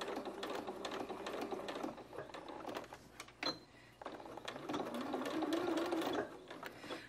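A sewing machine stitches a fabric coffee cup sleeve, a quiet, fast mechanical whir with ticking and rattling that pauses briefly and then runs steadily again.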